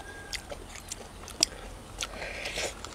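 Someone eats a Thai salad made with Malay apple flowers, with quiet close-up bites and soft, wet chewing sounds and a few sharper crunches.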